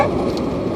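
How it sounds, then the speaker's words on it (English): Steady rain falls in South Florida, a continuous even hiss with faint scattered ticks of drops hitting a surface, moderately loud and unbroken, with no voices over it. "Now it's raining."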